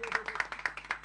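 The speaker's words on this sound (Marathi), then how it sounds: "एकदा टाळ्या." A studio audience at a Christmas special show claps in quick, rhythmic bursts: a short, dense patter of applause close to the microphone.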